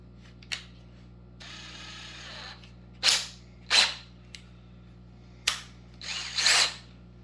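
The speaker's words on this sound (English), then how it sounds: "So we're going to use a drill." Several short bursts of a power drill whirring into a printer ink cartridge, each lasting under a second, with brief pauses and a faint hiss between them.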